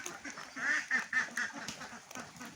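Ducks heading out to a pond give a run of loud, close, nasal quacks in quick bursts, several birds calling over one another with no talk.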